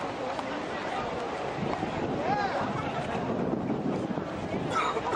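Gusty wind buffeting a microphone outdoors at a crowded Mother's Day rally in a capital city, a steady low rumble with faint crowd murmur and voices underneath.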